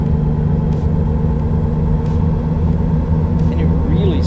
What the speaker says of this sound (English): And it really sounds like wheel bearing.